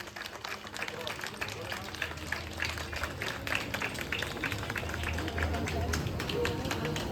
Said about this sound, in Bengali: হাততালি দিন আপনারা।